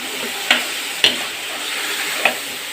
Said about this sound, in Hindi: जो हमने चिकन रखा हुआ है वो भी हम इसमें शामिल कर देंगे। इसको अच्छी तरह पहले मिक्स कर लें।